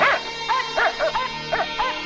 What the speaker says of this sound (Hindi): ये जंगली खूनखार कुत्ते हैं